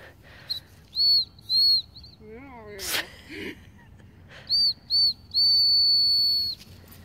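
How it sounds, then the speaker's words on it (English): High, steady dog whistle blasts for recall, two short, then two more and a long one, with a brief voice and some rustling in between. "Whistle malfunction."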